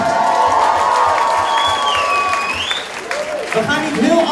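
Concert crowd applauding and cheering as a singer is welcomed on stage for a duet: loud, dense clapping with whoops from the audience, while a voice speaks over a microphone above the roar and the noise dips briefly near the end.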